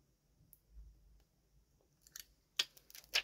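Mushrooms are cut up in a quiet room. After near silence, a few faint snips and crisp slicing clicks come in short bursts toward the end.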